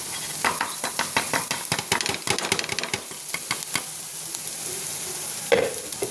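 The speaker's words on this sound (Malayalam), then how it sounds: "ഇനി നമുക്കിതിലോട്ട് നമുക്ക് ചിക്കൻ ഇട്ട് കൊടുക്കാം" Crushed chicken goes into a hot pan and is stirred briskly, with a quick run of close spatula clicks and scrapes over a bright sizzle that settles into steady frying with one last scrape.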